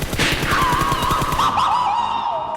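Rapid bursts of gunfire in PUBG Mobile crackle up front, then fade while a rising and falling synthetic whine carries on.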